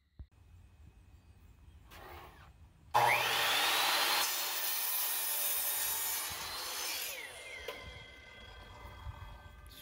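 An oak board is cut down in a garage with a power saw, a loud sustained rasping cut of about four seconds after a quiet start, trailing off into lighter scraping and handling sounds.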